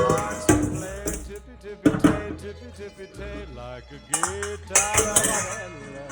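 Confit garlic being strained in a home kitchen: close, irregular metallic clinks and scrapes of utensils against a strainer and pot, with short ringing tones between quieter pauses.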